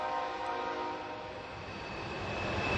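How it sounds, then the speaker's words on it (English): A train rolls past on a nearby track, a steady broad rumble and rush holding at the same level throughout, with no talking over it. "I'm next to a train track, can you tell?"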